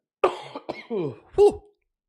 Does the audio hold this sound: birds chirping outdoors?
no